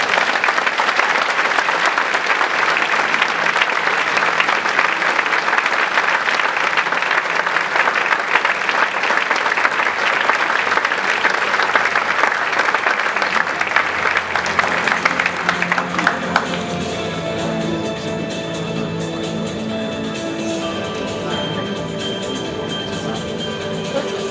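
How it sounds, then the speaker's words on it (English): Audience at an auto industry honorees reception applauding, a long steady roll of clapping that drops off partway through as music with a steady beat carries on at a lower level. "Please join me in a round of applause for our honorees in the reception"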